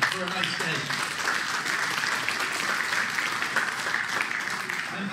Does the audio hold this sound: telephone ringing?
no